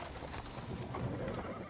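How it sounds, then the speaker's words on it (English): Horse-drawn cart pulled by a small horse, hooves clip-clopping over paving stones at a steady moderate pace, close and fairly quiet, with a faint whinny-like tone woven in. "A cart drawn by a sad little horse appears from around the corner."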